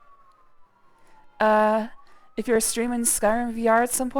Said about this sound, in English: I don't know if you can hear the sirens behind me.